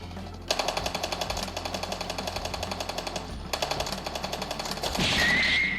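Rapid automatic gunfire from a mobile shooting game played on an OPPO A6 Pro 5G phone rattles in steady bursts with a short break, followed by a brighter effect sound at the end.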